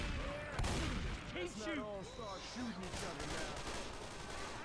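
Gunfire aimed at the Tank, the boss infected in the co-op shooter Left 4 Dead 2, crackles as a rapid stream of shots beneath excited shouting voices and dense game noise.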